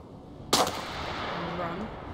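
Single sharp gunshot from the war survival video game This War of Mine, a loud crack followed by a long reverberant tail, with no other sounds around it.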